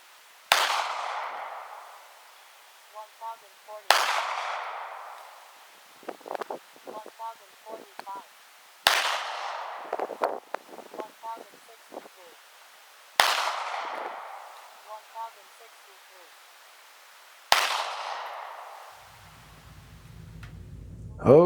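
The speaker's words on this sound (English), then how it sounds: "we'll get out to the range here, see if we can shoot a group" Five sharp rifle gunshots ring out at an outdoor shooting range, evenly spaced about four seconds apart, each a loud crack with a decaying echo, with faint rustling and handling sounds between shots and low wind rumble at the end.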